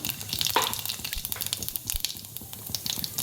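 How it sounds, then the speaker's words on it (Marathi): Cumin seeds sizzle in hot oil for a tempering of urad dal, a close, steady crackling hiss with scattered sharp pops and no talking. "आता आपण ह्या डाळीला फोडणी देऊया आपण आता याच्यामध्ये एक एक चमचा जिरं घालून घेऊया"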